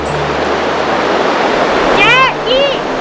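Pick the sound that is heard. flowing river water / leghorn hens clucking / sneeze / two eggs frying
flowing river water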